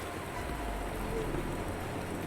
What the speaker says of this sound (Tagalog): Straight na yung ulan dito eh.